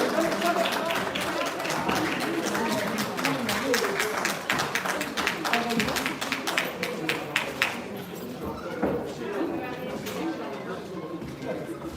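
Crowd applause for two female boxers at an Olympic-style amateur boxing event in Padova, Italy, dense and steady throughout, with voices mixed in and clapping thinning slightly toward the end.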